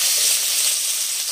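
Chopped onion tipped into hot oil already crackling with mustard seeds and green chilli, giving a steady, loud, bright sizzle and hiss with no pauses and no talk.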